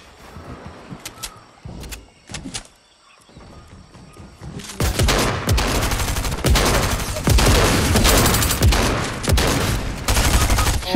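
Fortnite gunfire: a few scattered shots early on, then a dense, loud stretch of rapid automatic fire and impacts filling the second half, with no voices over it.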